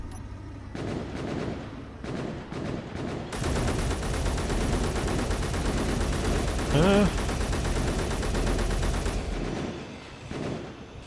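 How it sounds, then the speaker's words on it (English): A rapid-fire rifle blazes in a video game, a dense, loud sustained stream of shots lasting several seconds after a few scattered single shots, with a voice talking around it. "Oh, I do have a rapid fire rifle."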